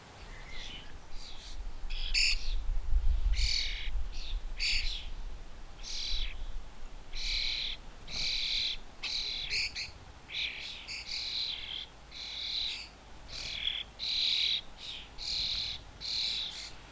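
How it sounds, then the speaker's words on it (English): Young birds chirping together in a garden, a steady stream of short, high tweets and calls in quick bursts, fairly close and continuous over a faint low background rumble. "The birds all come together."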